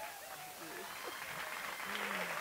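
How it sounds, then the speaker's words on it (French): Guests at a surprise 30th birthday party applaud, a faint, steady patter of clapping with voices talking over it. "Bon, maintenant, applaudissez pour Daniel."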